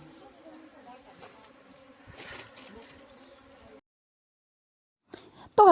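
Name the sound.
honey bees buzzing as they are put into a hive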